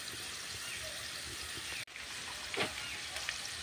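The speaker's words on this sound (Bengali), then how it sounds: "শুকনো লঙ্কা দিয়েছি আর কালো জিরেটা এই তেলের মধ্যে আমি দিয়ে দিচ্ছি" Dried chilies, garlic and black cumin sizzle softly in hot oil in a village kitchen, a faint, steady crackling hiss with a brief dropout and a small splash-like swell near the end.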